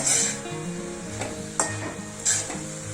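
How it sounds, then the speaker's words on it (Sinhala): Spring onion curry is stirred in a pan, with soft scraping strokes and a few sharper utensil clinks over a low, steady sizzle, close and fairly quiet, with no talking. "දැන් මේ යට ටික පොඩ්ඩක් ආයි උඩට අරගෙන කලවම් කරන්න."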